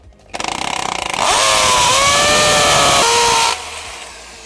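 Power drill boring a second hole into a wall to mount a safe: a loud motor whine spins up, bites into the masonry with a strained pitch for about two seconds, then cuts off, with no voices.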